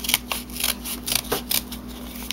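Scissors snipping through paper along a drawn line for a Thanksgiving craft, a series of close, crisp cuts in a steady rhythm over a faint background hum.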